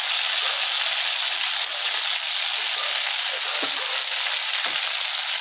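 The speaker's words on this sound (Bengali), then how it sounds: "এই তেলে একটু গরম মশলা দিয়ে দিলাম, একটু জিরে ফোড়ন দিলাম" Garam masala and cumin seeds sizzle in hot oil with a steady, close hiss and crackle, with a few soft stirring clicks.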